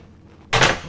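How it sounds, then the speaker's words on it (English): Cabin door on a Beneteau 311 Clipper sailing yacht shutting with a single sharp, close wooden knock after a quiet moment. "Closing the door,"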